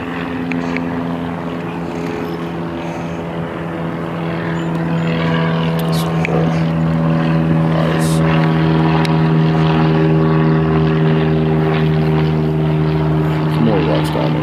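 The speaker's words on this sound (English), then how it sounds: "Is another plane coming?" Propeller aircraft drone passing overhead outdoors in nature, a steady tonal engine hum that swells gradually louder toward the end and holds, with no talking.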